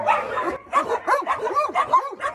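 Dogs resting in a doorway area of a mountain home bark in quick, close bursts, with yips and a whimper mixed in. The bursts come in an uneven rhythm over a couple of seconds.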